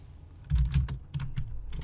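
Close computer keyboard and mouse clicks, a quick irregular cluster of light taps with no voice over them.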